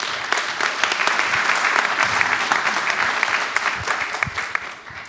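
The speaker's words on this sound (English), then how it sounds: "A round of applause for our panel." A conference audience applauds a panel discussion on higher education and AI, steady dense clapping filling the room at full strength before tapering slightly at the end.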